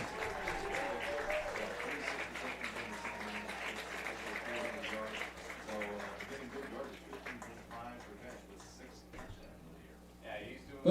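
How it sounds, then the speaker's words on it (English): Football crowd applauding seniors at a varsity game, a steady wash of clapping that fades over several seconds while voices carry on over it. "Let's give them all one more big round of applause"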